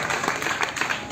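Audience applause at an outdoor Ramlila event, a short burst of dense clapping from a crowd, fairly loud, with some voice mixed underneath.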